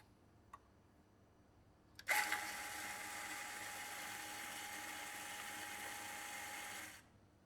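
A coffee grinder runs the first grind of the day, starting abruptly after a faint click and whirring in a steady high-pitched drone for about five seconds before winding down and stopping.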